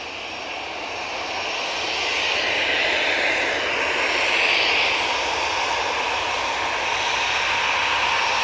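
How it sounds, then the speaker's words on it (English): An EasyJet airliner, thought to be an Airbus, moves onto the runway at Manchester Airport, its jet engines giving a loud, continuous roar that swells slightly and holds steady throughout, with no voices. "EasyJet now coming on to the runway"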